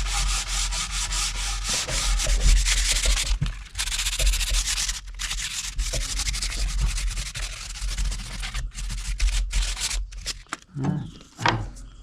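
Sandpaper rubs back and forth over wood in a continuous rough, scratchy rasp, close and fairly loud, with brief pauses and a few knocks near the end.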